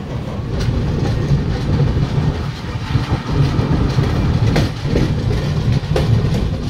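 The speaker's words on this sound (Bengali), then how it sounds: "ওইদিকে যে ট্রেনটা আসলো ওটা হলো জয়নগর থেকে এখন পুরীর উদ্দেশ্যে যাচ্ছে" The Puri–Jaynagar Express rolls past, heard from aboard a neighbouring train on the Puri–Digha route. It makes a loud, steady rumble with rhythmic clickety-clack of wheels on rail joints throughout.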